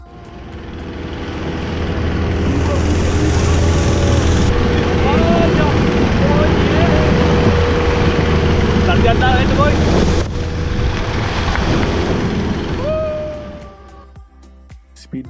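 A long-tail boat motors across the sea near Phi Phi, its engine droning loud and steady with wind buffeting the microphone, then fading toward the end.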